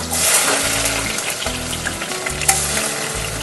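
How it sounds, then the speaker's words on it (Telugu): Onions sizzling loudly in hot oil for a Hyderabadi dalcha, a steady close crackle with stirring scrapes. "ఆయిల్ వేడయ్యాక ఆనియన్స్ వేసుకోవాలి."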